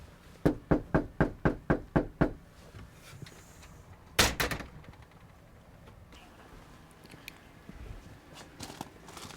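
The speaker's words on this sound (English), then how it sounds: "I'm gonna bang on the door, Nick." A police officer pounds on a door during a patrol: about eight rapid, evenly spaced heavy bangs, then a pause and a second short cluster of blows in an otherwise quiet setting.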